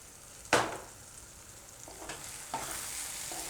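Spinach and eggplant curry simmers over a low gas flame with a faint steady sizzle, opening with one sharp spoon clank and followed by a few soft scrapes against the pan.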